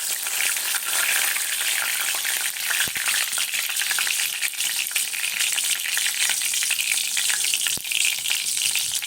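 Bay leaves go into hot oil for chicken curry, producing a loud, continuous close-up sizzle and crackle with occasional sharp pops.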